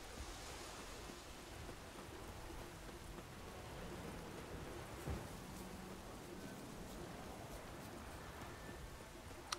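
Steady rain falls in The Witcher 3 video game, a soft, continuous hiss of drops with faint patter throughout, heard alone without talk.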